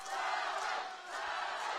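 Crowd at a corporate boxing match cheering and shouting for two fighters, a steady, dense roar of many voices carried at a distance with a brief dip midway.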